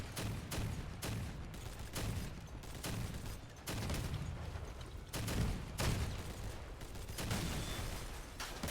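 Cannon fire from a pirate-ship build in the Crossout vehicle combat game booms in a rapid, repeated volley, each blast close and loud, continuing steadily throughout.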